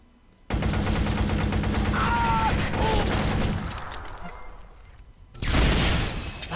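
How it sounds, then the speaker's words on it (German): A vehicle blows up in the video game Watch Dogs during a helicopter chase, a loud sustained blast and rumble with crackling, followed by a second burst of explosive noise. "Ich wollte den hacken, nicht das zum Explodieren bringen."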